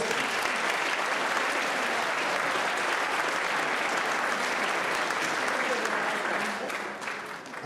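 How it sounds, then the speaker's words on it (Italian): Sustained, dense audience applause for a guest trombonist at a town music festival in Portacomaro, steady and full for several seconds before tapering off at the end. "Quindi un bel applauso anche a David Ceste."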